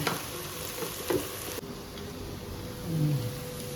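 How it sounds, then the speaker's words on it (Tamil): Idiyappam masala with Kashmiri chili powder sautéing in a pan, a steady, gentle sizzle with faint stirring, low and even, and a brief hum near the end. "கொஞ்சம் நேரம் அப்படியே வெந்து வதங்கிட்டு இருக்கோம்"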